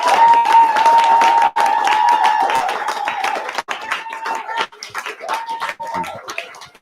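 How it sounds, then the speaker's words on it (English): A room full of people claps together at a leadership event, sharp loud hand claps with a sustained tone running through the first part, then easing into thinner, patchier clapping toward the end. "Really, really big round of applause, please, guys."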